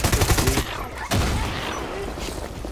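Grenade launcher fire in the Far Cry 6 action game: a quick run of rapid, pulsing shots followed by one big, loud blast that rumbles and fades, with no talking.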